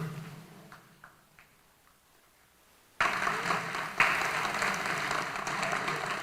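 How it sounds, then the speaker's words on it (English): A high school graduation crowd, standing in a gym or auditorium, bursts into loud, dense applause after a few quiet seconds of murmur, and the clapping continues strongly to the end. "please stand and give them a big applause they deserve"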